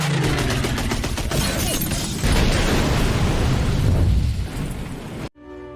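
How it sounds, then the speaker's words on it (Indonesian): A plane shot down until it explodes, a film sound effect: a loud sustained blast and roaring burst with crackling debris, fading before cutting off abruptly near the end. "Ia berusaha menembaki pesawat itu hingga meledak."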